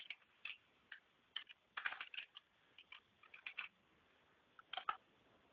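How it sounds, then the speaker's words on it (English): Keys clatter on a computer keyboard in short irregular bursts of clicks with brief pauses between, quiet and close in an otherwise silent room. "I'm going to type in cookware in here"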